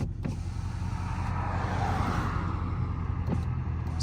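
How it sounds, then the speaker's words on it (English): Power windows on a Dodge Charger RT whir down with a steady motor drone over road and engine noise during a highway drive at sunset, a couple of soft clicks marking start and stop. "We're gonna keep the windows like halfway down just so y'all can really hear everything."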